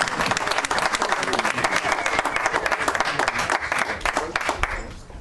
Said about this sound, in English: let's give a good warm welcome and a round of applause for Representative Ken Helm